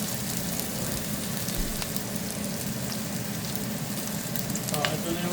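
Beef sizzling and frying with softened onions in a pan for mushroom adobo, a steady dense crackle at moderate level with occasional stirring scrapes.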